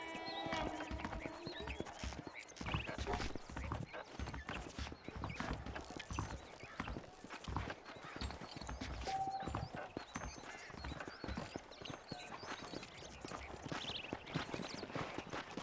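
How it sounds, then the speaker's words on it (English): Saddled horses in the video game Red Dead Redemption, hooves clip-clopping in a steady walking rhythm with an occasional whinny, alongside game sounds and snippets of talk. "The horses are saddled up over here."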